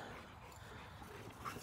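American bully dogs at a kennel give a few short whimpers and yips, ending in a sharper bark close by, over a low background rumble.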